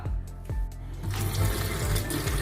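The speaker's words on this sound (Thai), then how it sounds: "เราจะต้องเปิดน้ำเพื่อให้ ท่อ PVC นี้ยังร้อนอยู่ เดี๋ยวเราจะทำให้เย็นลงนะครับ" Tap water gushes steadily over a hot PVC pipe to cool it, a continuous splashing rush that grows fuller after the first second.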